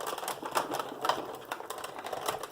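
Die-cutting machine cutting scallop circle frame pieces from paper, a rapid, steady mechanical clatter running without pause at close range, with no voices.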